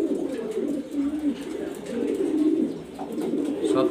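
Fancy pigeons, including grizzle, racer and Afsan types kept in Mirpur, Dhaka, coo nearby in low, rolling, overlapping calls that continue throughout.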